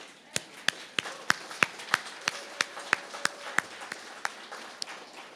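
Sparse, evenly spaced hand claps at an art awards ceremony, about a dozen sharp single claps in a steady rhythm, fairly faint and distant, with no voices over them.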